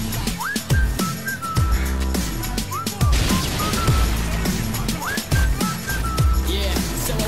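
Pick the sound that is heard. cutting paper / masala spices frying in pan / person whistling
person whistling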